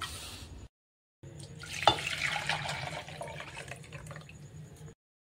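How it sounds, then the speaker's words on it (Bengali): Water is poured into a homemade vinegar mixture, a soft, close trickle and splash. It starts after a brief pause, runs for about four seconds, then stops. "জল দিয়ে দিলাম।"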